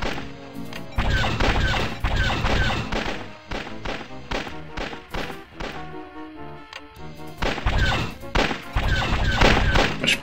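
Missiles strike in an X-Wing vs TIE Fighter multiplayer space battle, a rapid string of loud, punchy thuds and crashing blasts. They come in dense bursts with a brief lull in the middle.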